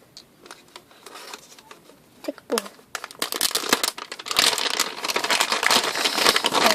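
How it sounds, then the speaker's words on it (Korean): Wrapping paper crinkles and tears as a gift package is opened, starting with a few small rustles and building into loud, continuous close-up crumpling and ripping, with someone talking quietly at points. "지금부터 한번 뜯어볼게요"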